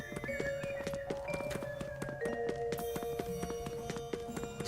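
Horse hooves clip-clop steadily with an occasional whinny in a Epic Mickey video game, set over a constant game music backdrop, with no talking.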